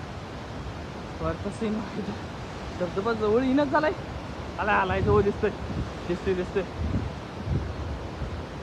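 The Ojharde waterfall rushes nearby on a forested hillside, a steady broadband roar that lasts the whole time while someone talks over it.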